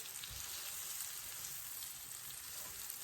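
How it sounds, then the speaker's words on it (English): Onions frying in a skillet still coated from cooking shrimp, a dense, even hiss of sizzling fat that runs without pause, close up and with no voices. "we're going to cook the onions in the same skillet"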